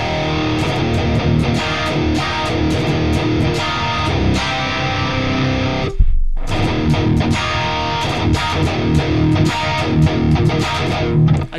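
Heavy distorted rhythm electric guitar through the Archetype Abasi preset chugs in tight, palm-muted riffs, loud and dense, with one brief silent break midway.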